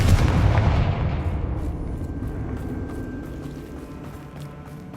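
Fire-spell explosions in the Hogwarts Legacy video game, a loud booming blast at the start that rolls into a long, fading rumble with faint crackling debris.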